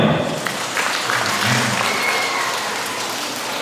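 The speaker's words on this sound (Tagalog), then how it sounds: "Mga bata, palakpak tayo." Applause from children and guests at a learning center's moving-up ceremony and school-year-end celebration, a steady, even wash of clapping that holds at moderate loudness for the whole stretch, with a faint voice briefly underneath.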